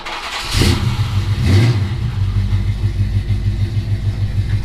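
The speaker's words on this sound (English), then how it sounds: "Might as well get a little Jimmy cold start here" A GMC truck engine cranks over in the cold, revs up twice in loud surges, then settles into a steady, rumbling idle close by.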